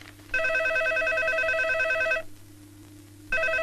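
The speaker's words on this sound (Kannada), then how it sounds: "ಏನ್ ಫೋನ್ ಬಡ್ಕೋತಾನೆ ಇದೆ" A telephone rings in an indoor comedy scene, one long electronic trill followed by a pause and then the start of the next ring, loud and close with no talk over it.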